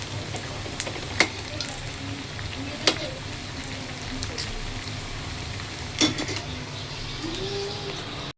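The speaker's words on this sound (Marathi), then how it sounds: "तर मी साबुदाणा वडा करायला घेतलाय, आणि करता करता तेल उडालंय" Sabudana vada fries in hot oil in a kadhai, giving a steady, even sizzling hiss with a few sharp pops and spatters breaking through.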